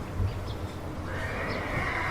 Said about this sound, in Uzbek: Bu yerda otlar ko'p ekan-a?